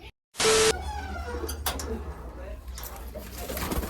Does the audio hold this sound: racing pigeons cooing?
yes